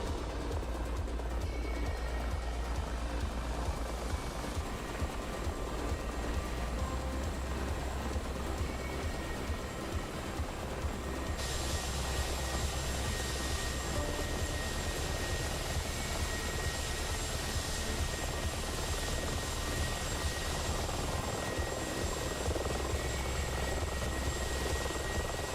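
A Mi-24 helicopter flies in a flight simulator game, its engine and rotor drone loud and continuous with a steady whine, holding unbroken for the whole stretch.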